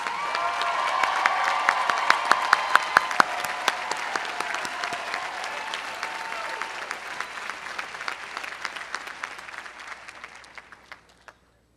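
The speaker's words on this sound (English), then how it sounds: "Will all of those people stand up so we can give them a collective applause?" Collective applause at a college commencement ceremony: a large audience claps loudly, with sharp individual claps standing out, then the clapping gradually thins and fades to silence.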